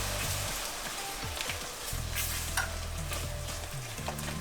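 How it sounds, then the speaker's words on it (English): A spoon stirs milk into a thick roux for béchamel sauce, a steady scraping and squelching texture with soft clinks, continuous and close, with no one speaking. "So just add a little, stirring the whole time."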